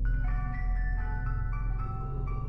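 An ice cream truck plays its tinkling chime melody, a bright music-box tune with clear repeating notes over a low rumbling hum, loud and close with no voices.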